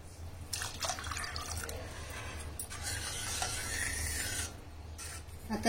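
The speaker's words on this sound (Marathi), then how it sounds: "आता त्यामध्ये किती दाट किंवा पातळ पाहिजे तसं पाणी घालून घेऊ" Water poured into a pot of cooked dal, a steady splashing and trickling that runs for several seconds over a low constant hum, with no talking.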